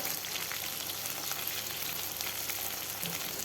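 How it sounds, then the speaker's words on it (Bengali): Fish sizzles steadily in hot oil in a pan, giving a dense, even crackle for several seconds with no voices. "এইভাবে ভালোভাবে ভেজে নেব"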